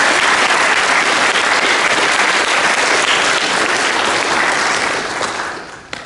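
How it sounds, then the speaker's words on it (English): Graduation audience applauding teachers: loud, dense clapping from a large crowd, steady for several seconds before tapering off at the end. "So if you could all give them a round of applause."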